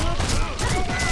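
Distant gunfire from soldiers fighting in Sniper Elite V2 crackles as a steady, muffled battle rumble beneath an overlapping voice.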